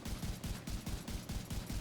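Rifle gunfire from The Division 2 on a maxed weapon-handling build: rapid, loud bursts of shots in a steady rhythm with short pauses between volleys, no talking.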